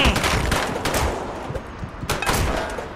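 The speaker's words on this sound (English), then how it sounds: "Chain gun. Such a thing exists." Rapid chain gun fire in the Scribblenauts Unmasked video game, a dense, continuous burst of loud repeated shots with sharp peaks at the start, around one second and again near two seconds, with no talking.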